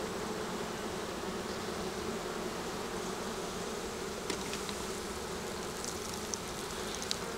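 Honey bees drone in a dense, continuous buzz around an open hive, quiet and steady, with a few faint higher flutters of individual wings passing close.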